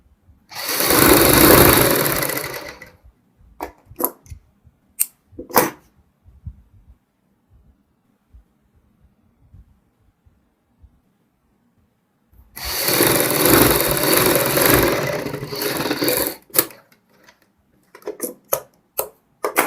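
A domestic sewing machine runs in two long bursts while stitching the hem of a kurti, dense and loud, separated by a quiet stretch of scattered clicks and handling knocks.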